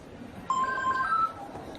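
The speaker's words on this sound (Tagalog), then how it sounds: "May nag-text sa'yo." A mobile phone chimes with a short text-message alert, a couple of bright electronic tones sounding close and clear over a quiet room.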